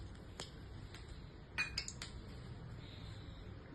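A spoon clinks a few times against a bowl while rava batter is mixed with a little hot oil for rava pakoda, sharp metallic taps scattered over a low background hum.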